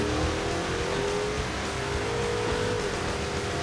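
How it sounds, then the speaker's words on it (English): A muscle truck engine holds a loud, steady roar with rising and falling rev tones over a continuous broad rumble, close and unbroken, with no voices. "Yep, see, I spun the tires that time."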